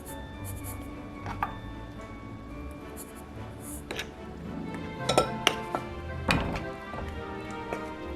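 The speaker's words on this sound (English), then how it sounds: "stirring just until the flour is absorbed and there are no streaks" Flour stirred into orange-chocolate pumpkin bread batter, with scattered light clinks and taps of a utensil against the bowl over a quiet, steady background.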